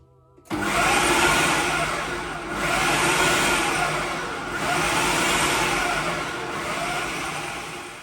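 Kitchen blender on its puree setting whirring through fermented chillies, starting abruptly and holding a loud steady motor roar with slight rhythmic swells as the contents churn.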